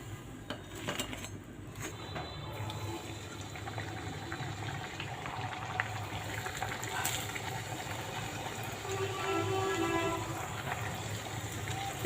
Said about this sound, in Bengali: দিলে লেগে যাবে তাই অল্প করে ভেজে নিচ্ছি।